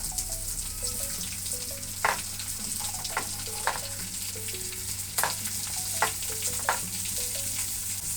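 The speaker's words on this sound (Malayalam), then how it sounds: "ഇനി അരിഞ്ഞു വെച്ചിരിക്കുന്ന സവാള നമുക്കിട്ട് കൊടുക്കാം" Chopped onion sautéing in hot oil for a prawn roast makes a continuous close sizzle, broken by sharp spatula taps and scrapes at irregular intervals, with a low steady hum underneath and no speech.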